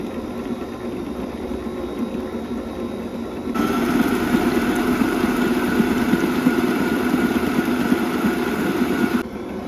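An electric hand mixer beats butter, sugar and egg into cake batter, a steady whirring motor drone that grows louder partway through and runs continuously to the end.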